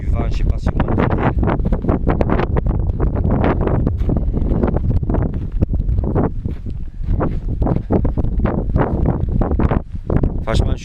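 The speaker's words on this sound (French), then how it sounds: "il y a du vent, je sais pas si vous m'entendez" Strong winter wind on the summit of Pic du Canigou batters the microphone with continuous roaring gusts. It is loud and unbroken for the whole stretch and drowns out everything else.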